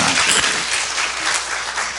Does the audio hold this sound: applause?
yes